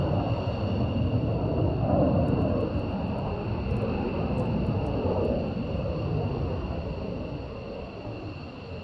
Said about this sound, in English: There'd be the 35s approaching.